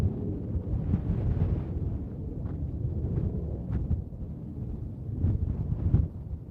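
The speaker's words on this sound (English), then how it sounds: "It is so windy." Strong wind blasts the microphone at a hilltop position on the Israel–Lebanon border, a continuous low rumbling roar with occasional harder gusts, moderately loud and unbroken, with no talk.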